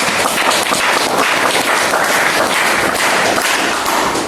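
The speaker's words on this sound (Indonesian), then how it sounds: "Oke, tepuk tangan dong." An audience at a corporate outbound team-building session breaks into dense, sustained applause, loud and steady throughout with no talking over it.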